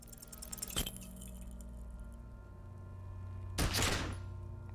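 A revolver fires in the video game Disco Elysium: a loud, sharp blast near the start, a second heavier burst with a crackling tail about three seconds later, over a low steady game ambience.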